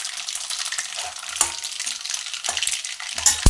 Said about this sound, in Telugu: జీలకర్ర ఆవాలు ఇట్లా వేగినాక ఇవి తుంచుకొని